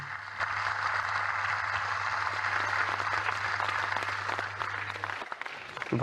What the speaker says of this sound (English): This is the first time we have gathered them at one table applauding.